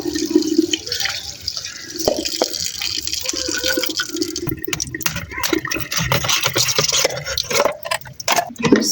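Ice and water are readied for a homemade vegetable syrup, with running and splashing water, drips and clinking through the whole stretch, close and fairly loud.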